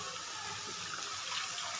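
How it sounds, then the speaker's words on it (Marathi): Hot water is poured into a pan of sautéed spinach greens with garlic, making a steady, faint, continuous pouring and splashing sound without any talk. "आता याच्यामध्ये मी पाणी घालून घेणार आहे,"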